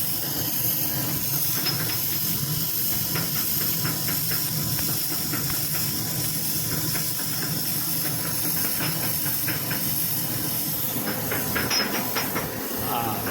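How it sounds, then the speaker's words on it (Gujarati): A diamond-cutting machine runs steadily in a home workshop, a continuous loud hiss and mechanical hum with faint rapid ticking throughout. "તો અહીંયા આપણું મશીન હાલે, હીરા કપાઈ ગયા માટે."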